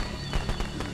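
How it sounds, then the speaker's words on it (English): Fireworks go off in the video game Friday the 13th, a quick string of several sharp crackling pops over a steady rushing background, close and fairly loud within one second. "all right, fireworks"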